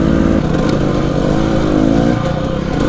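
A two-stroke dirt bike engine that has been stalling runs out at Kennedy Meadows, buzzing steadily and loud with a wavering, unsteady pitch throughout.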